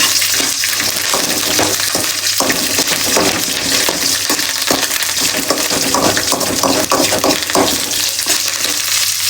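Fresh curry leaves with dried red chillies splutter in hot oil, a loud close crackling sizzle with rapid popping bursts throughout, no voices.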